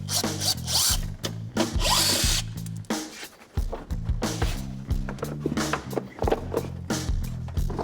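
Power drill spinning screws out of the plastic inner fender liner on a race-prepared BMW 330i, loud, close whirring bursts in rapid stop-start succession with brief pauses, no talking.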